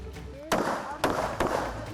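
An INSAS assault rifle fires during army training near the India-Bangladesh border, with three loud, sharp reports spaced about half a second apart under a voice.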